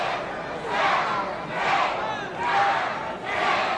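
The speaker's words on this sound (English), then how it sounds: "Got her hold into the corner, 2, 3, 4, and the crowd's going to count this one out." A wrestling crowd chants along in rhythmic swells, four loud waves of shouting voices rising and falling evenly as they count together.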